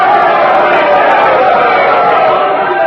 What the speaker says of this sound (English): The Queen is raising her hand to still the crowd